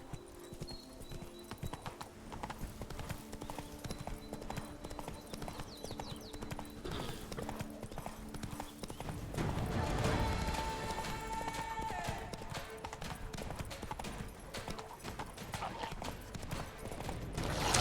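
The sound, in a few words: horse Roach galloping in The Witcher 3 video game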